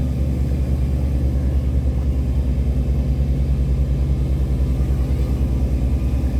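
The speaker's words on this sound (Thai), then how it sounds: "เครื่องยนต์คัมมินนะครับ" A tugboat with a Cummins engine works a cargo barge against the current on a flooded river, its engine droning in a deep, steady rumble with a constant low throb throughout and no talk.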